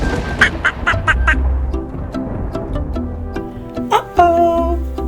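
A cartoon duck in a children's story quacks several times, with bright nasal calls in short bursts, some clustered close together, mixed with light background sounds.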